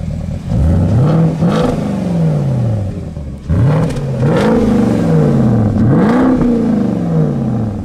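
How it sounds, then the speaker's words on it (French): A car on its stock exhaust revved hard to the rev limiter three times, each rise climbing quickly and then bouncing off the limiter before dropping back, loud and close. "je vais mettre un petit coup de rupteur et puis vous me dites ce que vous en pensez"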